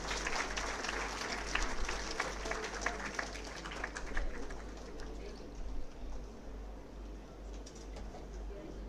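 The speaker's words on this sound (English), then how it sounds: "Audience, kindly give a good round of applause, please." An audience at an academic conference claps in a soft, somewhat distant round of applause that tapers off after about five seconds, with a low hum underneath.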